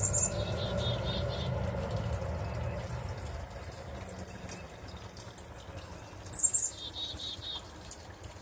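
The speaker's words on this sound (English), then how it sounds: "I love the birds singing this morning." Morning birdsong: faint, scattered chirps and short trills sit over a soft background hum, with a brief louder burst of calls near the end.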